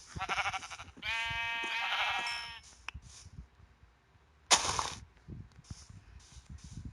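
Sheep bleating in a video game, a few close, loud bleats with a short pause between them, followed by a sharp burst of noise and faint clicks, no talk.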